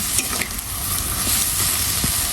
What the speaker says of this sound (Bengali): মরিচ, ধনিয়া সব কিছু দিয়ে হালকা একটু এটাকে নাড়িয়ে দেবো।